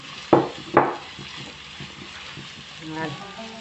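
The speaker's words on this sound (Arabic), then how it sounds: "نحط بصلتين قطعتهم مكعبات صغيره نحطهم يتقلاو" Two diced onions fry in oil in a pan, a soft steady sizzle broken by a couple of sharp clatters of stirring near the start, with a voice speaking over it.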